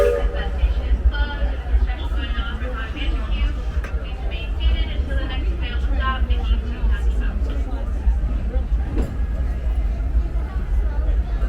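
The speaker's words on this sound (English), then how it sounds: "let the Disneyland Railroad call to us" Rumbling, rattling train ride on the Disneyland Railroad at Disneyland Resort, with steady low wheel and car noise and crowd chatter in the background.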